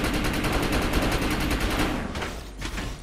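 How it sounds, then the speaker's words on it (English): A light machine gun fires in the game Defiance, a rapid, steady burst of evenly spaced shots heard up close, then tapering into scattered reports and echoes. "my light machine gun sucks"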